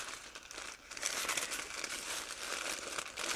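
Paper from a Subway sandwich wrapper crinkles and rustles continuously up close, with steady crackling handling and no talking.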